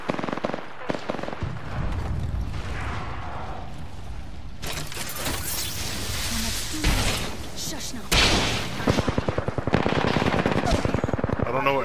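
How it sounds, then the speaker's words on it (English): Rapid video-game gunfire, automatic bursts and single shots crackling loudly in clusters with sharp repeated cracks near the end, players talking over the shooting. "Oh, I'm getting shot at."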